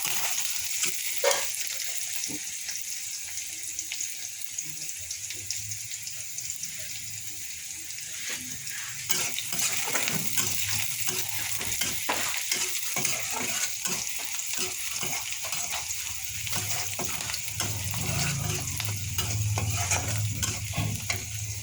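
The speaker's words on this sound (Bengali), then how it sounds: "পেঁয়াজটা ভালোভাবে ভেজে নেব।" Onions fry in a pan while being stirred, a continuous sizzle with repeated scraping strokes that grow louder and busier partway through, with no one speaking.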